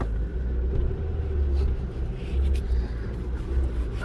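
A 2008 Ford Focus SE with a five-speed manual gearbox drives along, its engine a low, steady rumble heard from inside the cabin with faint road noise and no talking.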